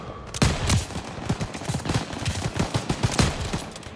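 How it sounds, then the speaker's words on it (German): Dense, rapid gunfire from machine guns in the Call of Duty WWII video game, with overlapping bursts of shots loud and close, continuing throughout. "Metralhadoras, abri fogo!"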